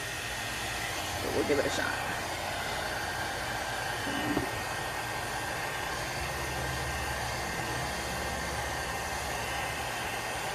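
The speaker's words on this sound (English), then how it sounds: "So I'm going to start my heat tool, and here we go." Steady, even blowing hiss of a craft heat tool melting embossing material, running the whole time in a small space, with a brief spoken line partway through.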